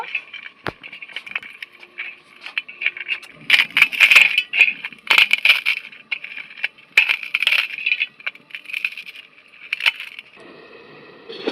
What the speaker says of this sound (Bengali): ভেজে রাখা বড়ি আর শুকনো লঙ্কা একসাথে আমি গুঁড়ো করে নেব